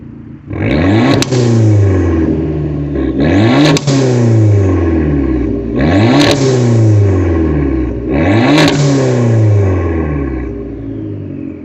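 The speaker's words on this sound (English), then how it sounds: "A blowout valve. Just listen." An Abarth 500 hatchback fitted with a blowout valve revs hard four times in a steady cycle, each rising engine pull ending in a sharp valve release, loud and close with no talk.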